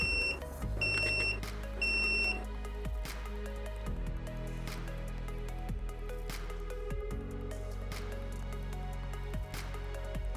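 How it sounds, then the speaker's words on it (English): A DIY ESP-NOW wireless water level indicator built on an ESP-01 sounds its buzzer when the water passes the full level: three short, sharp, high beeps in quick succession at the start, over a steady low background. "when the water exceeds it, the buzzer goes off."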